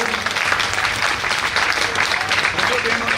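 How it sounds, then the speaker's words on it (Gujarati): A crowd at a temple office opening applauds Lala Maharaj as he comes forward to light the ceremonial lamp, giving steady, dense clapping close by that fills the whole moment. "આપણે સૌ તાળીઓથી એમને વધાવી લઈશું"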